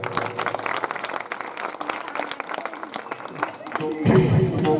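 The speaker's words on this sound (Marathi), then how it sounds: "सर्वांनी टाळी वाजवली पाहिजे" A kirtan audience claps together, a dense run of sharp hand claps, fairly close and loud, before a sung or spoken voice with harmonium-like tones takes over near the end.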